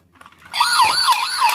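A toy police car and fire truck siren switches on after a faint lead-in, then wails loudly and continuously with a rising and falling electronic tone, close and alone.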